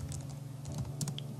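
Quick typing on a computer keyboard, a short burst of close, soft key clicks over a low steady hum.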